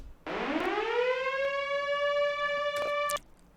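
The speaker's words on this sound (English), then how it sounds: "as well as this siren sound." A siren wails alone, rising quickly in pitch and then holding a steady loud tone for about three seconds before cutting off, with a couple of faint clicks near the end.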